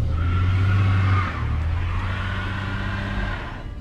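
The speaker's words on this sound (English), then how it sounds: "I did a little baby burnout" A car doing a small burnout, its engine revving hard with tires squealing and skidding, loud and close, then easing off to a lower steady rumble.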